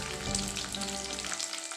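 Thin sanna karapusa snack fries in hot oil with a continuous dense, crackling sizzle, close and steady throughout the short stretch.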